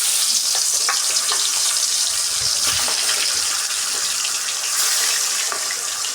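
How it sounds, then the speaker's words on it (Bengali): Pangas fish head sizzling as it goes into hot oil in a wok, a steady bright frying hiss with crackly spatters running continuously throughout. "এখন আমি মাছ গরম তেলে দিয়ে দিব"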